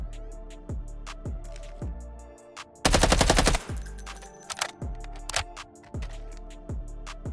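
Automatic rifle fire in the Delta Force shooter game, fitted with budget T5 ammo against a T5-armored target 40 meters out: one sharp, loud full-auto burst in the middle, set between repeated rhythmic clicks and mechanical handling sounds, with no voices.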